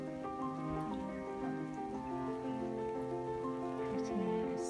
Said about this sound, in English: But it's still nice even though it's raining, isn't it?